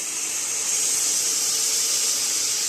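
Hot water goes into a cooking pan of yellow moong usal, producing a steady loud hiss of steam and splashing that holds evenly throughout, close with no voices.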